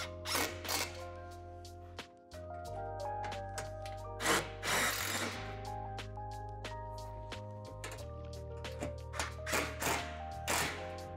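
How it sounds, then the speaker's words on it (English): A power tool tightens hardware on a Lifetime 10 x 8 ft plastic outdoor storage shed, giving a steady whirring drive with several ratcheting bursts and clatter over about eleven seconds, close and clear. "Tighten this hardware as well as the hardware from the previous step."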